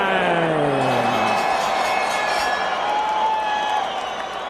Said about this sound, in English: This crowd at a fever pitch